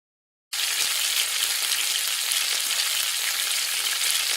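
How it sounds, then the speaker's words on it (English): Slices of Spam sizzle in a frying pan on an induction cooker set to low heat, a steady close hiss that starts abruptly and holds even and loud throughout, with no talking. "Lift the Spam with a spatula and place it on the frying pan."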